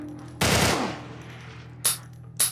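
Heavy-recoil gun in The Last of Us, with one loud close shot ringing out and decaying, then two more sharp shots spaced about half a second apart.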